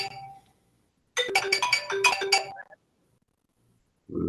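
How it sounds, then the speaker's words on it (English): A mobile phone ringtone sounds in a room: a brief faint tone, then a loud bright melodic burst of just over a second that stops abruptly, with a voice starting at the end. "Somebody's phone's going"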